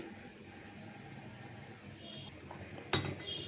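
A metal wok is set down on a stove for frying greens, giving a single sharp clank near the end after a quiet kitchen background.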